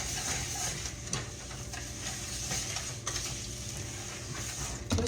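A spoon stirs thick brownie batter in a bowl to break up a clump of sugar, making a steady close scraping and swishing with a few small knocks throughout.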